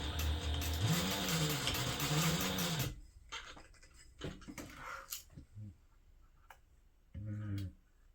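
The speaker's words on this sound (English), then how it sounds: "And then we're just going to sew across this" Sewing machine runs a quarter-inch seam across a fabric dog poop bag holder, a close mechanical whirring for about three seconds, then scattered handling clicks and a second short burst of stitching.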